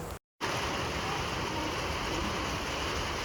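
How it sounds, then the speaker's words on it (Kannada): Heavy rain pours down in a dense, steady roar after a short silent gap, with no voices. "ಜೋರು ಮಳೆ ಕೂಡ ಸ್ಟಾರ್ಟ್ ಆಗ್ತಾ ಇದೆ"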